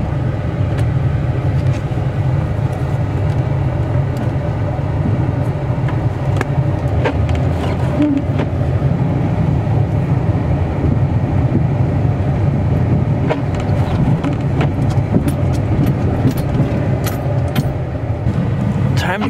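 A snow-plowing vehicle's engine runs outdoors on a cold homestead after a big snowstorm. It makes a loud, steady low rumble with wind noise and scattered clanks throughout, and a person talks over it.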